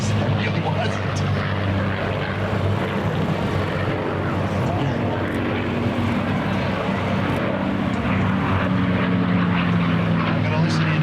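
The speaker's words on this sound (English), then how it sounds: "You might hear the music that they make along with the engine and the screaming." An F-16 fighter jet flying overhead, a loud, continuous engine roar that fills the whole stretch with broad rushing noise, while a voice seems to talk underneath.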